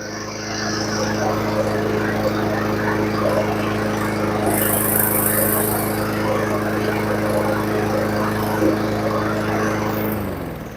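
A Honda lawnmower engine runs steadily at high speed, a loud continuous buzzing drone with a strong hum that holds for about ten seconds before dropping off at the end.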